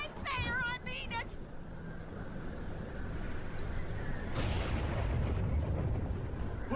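A character in a video game fires a gun at the player, a sudden broad blast that leaves a rumbling wash of noise. It comes after a brief burst of in-game voice, with talk continuing beneath.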